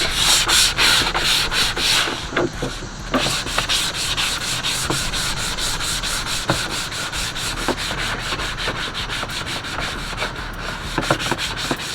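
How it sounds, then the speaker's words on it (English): Continuous close abrasive sanding of a KBD SRT front bumper for a Dodge Charger, prepped for custom paint, with steady rhythmic strokes and brief pauses, loud and alone without talk. "I gotta make sure I get every area, every crevice, everywhere fully sanded so the paint will stick."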